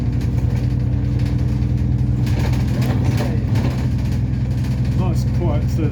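Enviro 400 double-decker bus on route 406 in Surbiton on an evening run, heard from inside: steady loud engine drone with rattling vibration throughout, a voice talking over it.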